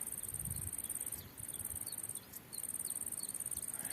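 Crickets trill continuously in forest grass, a high steady chirping close by with brief pauses, over a quiet outdoor background with faint bird chirps.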